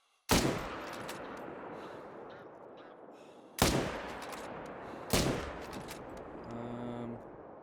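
Three loud rifle shots from the hunting game theHunter: Call of the Wild, each a sharp crack with a long decaying tail, spaced a few seconds apart, with faint game ambience and tonal interface chimes near the end.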